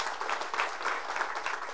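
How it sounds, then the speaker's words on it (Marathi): Crowd applause fills the air at an outdoor political rally in Vibhutwadi, a dense, steady clapping from many hands sustained throughout without pause or voices. "जयाभाऊंच्यासाठी जोरदार टाळ्या वाजवा"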